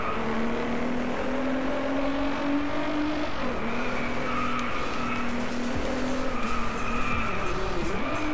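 A Nissan GT-R NISMO in Driveclub racing brakes hard, with a loud, continuous tire squeal and skid over a droning, shifting engine note, sustained for several seconds.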